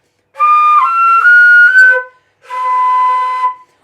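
Two sustained, thin high flute tones, strained and slightly wavering, separated by a short pause; airy and unsteady, overblown from blowing too hard.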